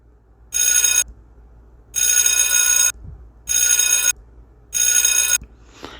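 An electronic bell at a convenience store rings in four long, loud bursts of about half a second each, separated by brief pauses, with no one speaking.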